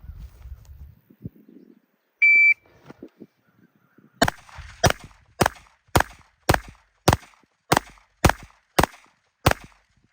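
Ten pistol shots fired at an even pace during a shooting drill of ten rounds from ten yards, sharp and loud, with a brief beep before the string begins.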